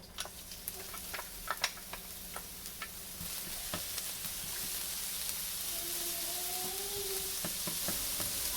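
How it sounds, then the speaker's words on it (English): Ginger sautéing in hot olive oil, a steady faint sizzle with scattered light crackles and ticks, the frying hiss building slightly as it goes on. "I'm going to go ahead and saute the ginger until fragrant"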